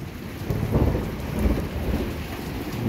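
Heavy rain pours during a thunderstorm, a loud steady wash of drops with low rumbling thunder rolling underneath, swelling a couple of times, with no one speaking.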